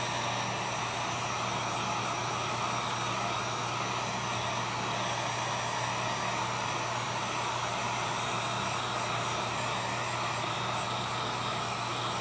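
A heat blower warms a coated firearm frame, making a constant, loud, close whooshing roar with a steady motor hum underneath that runs unchanged throughout, with no voices.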